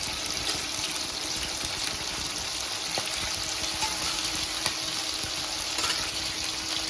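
Mandi-style chicken leg pieces fry in a pan with a steady, even sizzle and crackle of hot oil, close and continuous throughout, with no talk.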